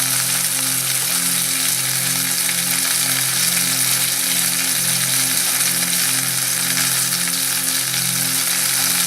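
Rice cooking in a pan gives off a steady, loud broadband sizzle with a low rhythmic hum underneath, continuous and close throughout, with no voices.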